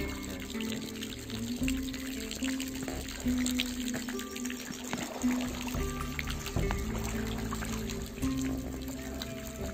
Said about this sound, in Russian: Это же родник текет.